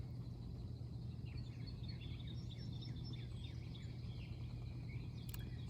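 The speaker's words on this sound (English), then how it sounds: "I'm hearing a lot of bird song all around me as I sit outside on the farm" Birds singing outdoors on a farm in spring, scattered chirps and short calls at moderate distance over a steady low hum and background noise, with a brief sharp click near the end.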